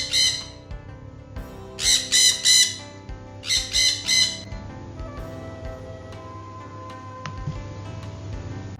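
Repeated harsh parrot squawks in two close bursts of several calls each, loud and near, followed by a quieter stretch with faint rustling and clinks.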